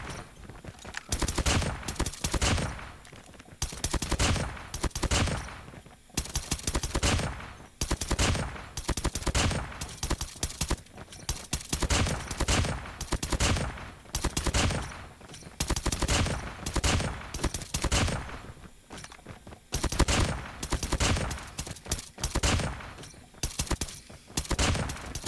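An M1 Garand rifle in COD Mobile fires in a long series of loud, rapid shot bursts, with short gaps between volleys across the whole stretch.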